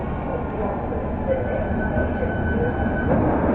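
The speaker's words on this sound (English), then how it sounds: "And also coming is London Underground Met Line service from Watford to Harrow and Hill." London Underground Metropolitan line train arriving at a station, Watford to Harrow service: a steady, loud rumble with faint whining tones, continuous throughout, a voice speaking over it.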